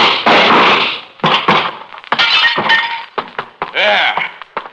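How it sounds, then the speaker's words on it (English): Gunshot sound effects in an old radio detective drama, a burst of loud, sharp cracks and thuds close up, followed by clattering, ringing impacts. "How's that for shooting, Sam?"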